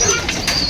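Pet pigeons in a loft give a brief, soft, low cooing murmur with a faint flutter, close by and lasting under a second.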